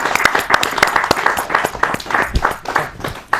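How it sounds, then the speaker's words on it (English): Audience applauding after a poetry reading at a community event, a dense patter of many hands clapping steadily throughout, fairly close and loud. "give Mark another round of applause for his great poetry."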